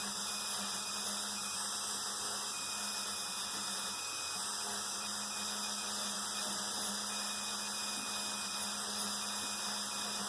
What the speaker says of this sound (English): Now I'm going to carefully polish this guy without wrecking anything.